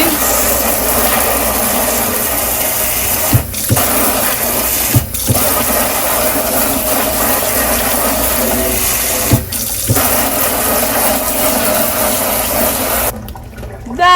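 Running water rushes steadily over the leaves of a Monstera Adansonii houseplant being washed, a loud continuous splash with a few short breaks before it cuts off near the end.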